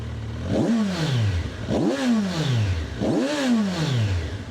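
A 2025 Kawasaki Versys 1100 motorcycle engine revved three times in steady succession, each blip rising and falling in pitch over a constant idle, close and fairly loud with no talking.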